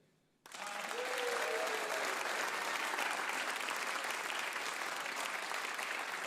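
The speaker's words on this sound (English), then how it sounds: "I need you to applaud one more time." Studio audience at a live music show bursts into loud, sustained applause that starts abruptly and holds steady throughout, with a few scattered cheers at the outset.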